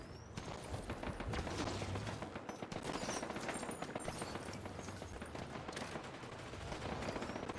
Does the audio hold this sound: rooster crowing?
no